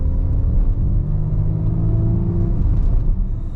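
A 2024 VW Atlas four-cylinder engine pulls steadily under acceleration, a loud continuous low rumble and whir heard from inside the cabin with no talking over it.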